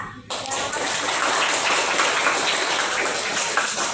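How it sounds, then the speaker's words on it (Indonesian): Students in a classroom break into dense, steady applause for a classmate, starting abruptly after a brief pause and continuing loud and even throughout. "Kita tepuk tangan dulu buat Zara."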